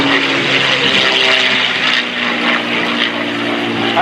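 P-51D Mustang Quicksilver flying a 16-point hesitation roll at an airshow, its propeller engine droning loud and steady overhead throughout, with faint crowd noise beneath.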